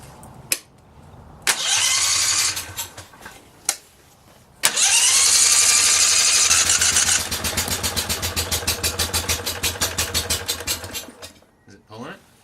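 A V-twin engine on a drift trike, clutch and belt removed, cranks in several short bursts, then catches and runs loudly for a few seconds before settling into a rapid pulsing idle that dies away, with voices in between.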